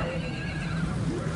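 A horse at the Nagaur cattle fair gives a loud, close whinny that carries through the whole moment, with faint hoof clatter and crowd noise behind it.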